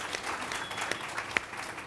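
Audience applause at a university divinity school meeting, a soft, steady wash of clapping from a crowd with a few sharper individual claps standing out.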